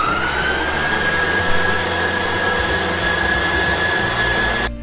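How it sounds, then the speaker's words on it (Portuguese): An electric stand mixer runs steadily, beating cake batter for a chocolate cake while egg yolks are added, a continuous loud whir with a sustained tone and no talking. "Então aqui a gente liga a batedeira e eu vou começar a colocar essas gemas."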